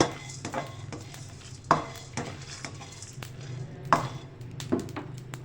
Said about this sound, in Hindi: ये सब डाल के हम अच्छी तरह इसको भून लेंगे